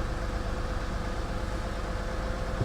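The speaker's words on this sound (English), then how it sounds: "It's running like crap. It's misfiring." A car engine idling roughly at about 1,000 RPM and misfiring, with a steady low rumble and an uneven pulsing texture, close and continuous with no speech.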